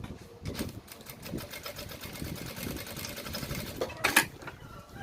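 A sewing machine backstitches fabric bag handles, running in a steady close whirring patter of rapid stitches with a brief sharper clatter near the end.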